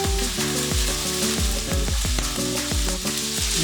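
Butter and lemon juice sizzle loudly in a hot pan around a piece of lemon sole, a steady crackling fry with no talk.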